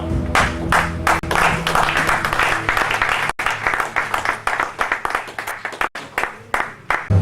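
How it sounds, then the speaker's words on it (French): Church congregation in Antwerp applauds together for the Lord, a loud sustained burst of clapping that carries on for several seconds with a few dips before fading out. "Est-ce que nous pouvons applaudir pour notre Seigneur?"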